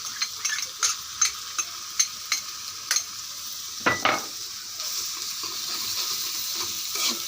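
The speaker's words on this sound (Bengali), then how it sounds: "মাঝখানে তেল আছে এখানে ভেজে নিব সব মশলা দিয়ে দিব এখন" Spices fry in oil for a potato and egg samosa filling, starting with a run of sharp stirring taps against the pan, then a sudden burst of sizzle that settles into a steady close frying hiss, with no talk.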